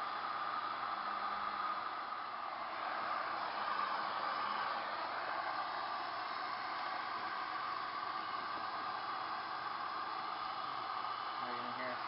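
A heat gun blows a steady, even hiss of hot air while vinyl wrap is heated on a Kawasaki Ninja 250 R, continuous and close with faint talk underneath.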